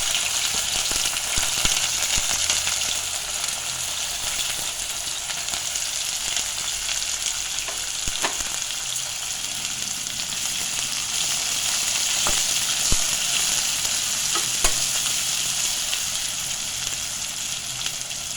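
Onions, curry leaves and green chilies sizzle steadily in hot oil for avarekalu upittu, a loud, dense frying hiss with occasional crackles and pops throughout.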